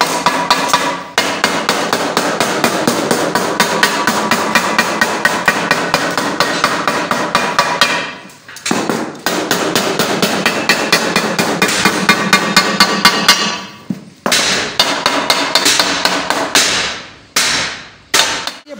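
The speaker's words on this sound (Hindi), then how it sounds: "इन कटाई की हुई शीटों को मुख्तलिफ शक्लें देकर और हथौड़े के साथ ठोक कर तैयार कर रहे हैं इन चांद पेटियों के लिए" A hammer pounds cut metal sheets being shaped into trunks, with loud, rapid, evenly spaced blows in long runs broken by a few brief pauses, close and dominant.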